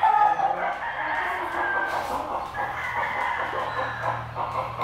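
Gamecocks of Kelso and Albany lines crow among fowl, with several overlapping calls and clucks in a busy, fairly close yard and a low hum underneath.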